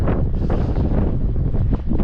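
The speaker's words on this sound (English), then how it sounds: "It's a bit windy." Steady wind buffets the microphone with a loud, low rumble that never lets up, with no voices, outdoors by a farm field at 4 degrees.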